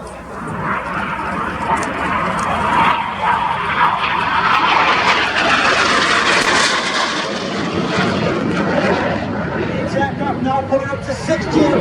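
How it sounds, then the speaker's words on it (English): Red Arrows jets flying a barrel roll display at the Royal International Air Tattoo give off a loud, continuous roaring rush that swells and fades as they pass overhead, with crowd murmur beneath. "Each aircraft will perform a barrel roll, crossing the middle before turning hard away from each other."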